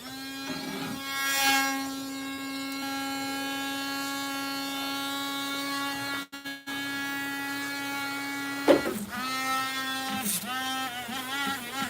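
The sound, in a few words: sanding a handmade item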